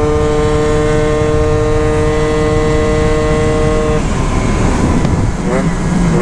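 A scooter engine drones loudly and steadily while being ridden, holding an even tone before the pitch shifts as it revs, heard close with road and wind noise.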